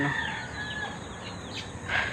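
Hens cluck and squawk nearby in short bursts over a steady outdoor background in the early morning, with one sharper call near the end.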